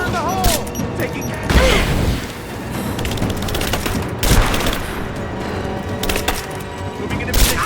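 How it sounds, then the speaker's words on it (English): Bursts of automatic gunfire and heavy booms fill a firefight in the Geothermal Valley of the Rise of the Tomb Raider video game, dense, loud and continuous, with shouted soldier calls mixed in. "Moving into position! Advancing! Cover me! Open fire!"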